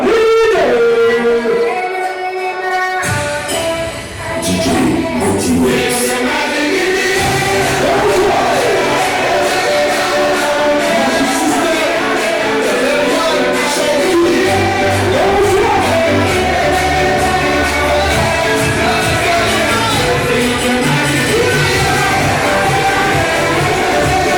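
At a religious wedding in Yaoundé, Cameroon, grandmothers shout and cheer loudly as a crowd, a continuous festive din with high ululating cries running throughout.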